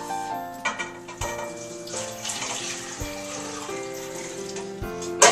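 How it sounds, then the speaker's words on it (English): Eight cups of water pour into a stock pot for black-eyed pea soup in a home kitchen, a steady continuous splash and rush running for several seconds, moderately near, with a faint tonal background bed. "I'm going to add some water, 8 cups of water"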